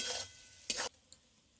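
Raw mango pickle with a pinch of asafoetida is stirred in a pan, giving two short bursts of scraping, sizzling stir strokes close by, followed by a faint click and near quiet.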